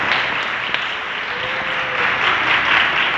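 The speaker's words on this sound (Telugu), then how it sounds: "చప్పట్లు కూడదాం ఒకసారి అందరూ" A church congregation at CSI Wesley Church in Secunderabad applauds together, a dense, steady wash of clapping that holds at an even level for the whole stretch with no talk over it.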